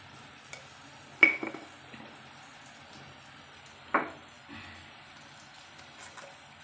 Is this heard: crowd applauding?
no